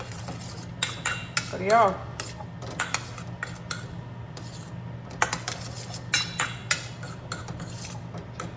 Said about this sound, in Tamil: இதை நல்லா மிக்ஸ் பண்ணிவிடுங்க